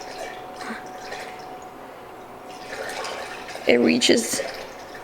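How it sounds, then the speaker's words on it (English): Coolant trickles and splashes as it's poured into the cooling system of a Nissan 350Z, a faint liquid sound that swells briefly near the end while someone talks over it. "So I'm just going to keep it like that and add some coolant."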